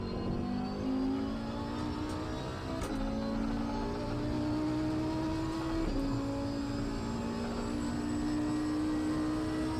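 A continuous racing car engine drone in the video game Assetto Corsa Competizione, with steady pitch and occasional gear-shift jumps, loud and unbroken throughout.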